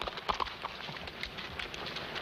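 A horse clip-clops along in a 1941 black-and-white cowboy film, its hooves giving a few soft, uneven thuds over a background of hiss and quiet outdoor noise.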